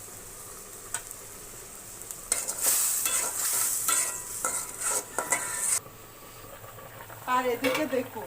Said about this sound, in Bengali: পরিমাণ মতো লবণ দিয়ে মশলাটা সুন্দর করে কষিয়ে নিব।